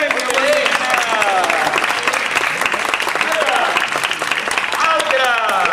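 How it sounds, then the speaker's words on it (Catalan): An audience at a children's book-day show applauds heavily and continuously, with excited voices and shouts ringing out over the clapping. "Un aplaudiment!"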